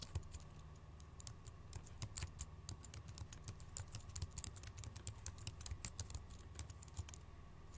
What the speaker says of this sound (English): To do that, we're going to type this out here.